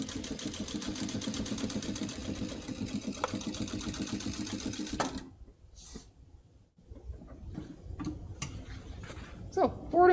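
A Titan 8700D sewing machine runs steadily in a close, continuous whirring burst, then stops; quieter handling clicks and rustles follow after the machine halts.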